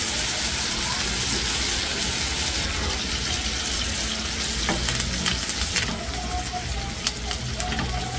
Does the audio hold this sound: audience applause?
no